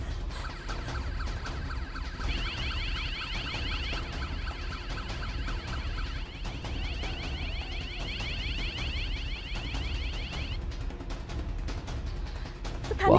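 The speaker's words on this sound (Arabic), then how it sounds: "قامت بتشغيل جهاز الإنذار" A household alarm wailing in steady repeating electronic sweeps, loud and continuous for about ten seconds over a constant background hum, with no speech.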